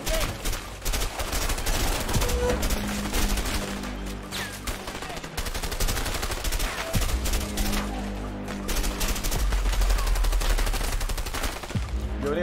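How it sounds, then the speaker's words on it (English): Gunfire from a firefight in the video game A Way Out: dense bursts of rapid, loud shots crackle almost without pause, with a few short breaks between volleys and no talking over them. "they are shooting my cover off"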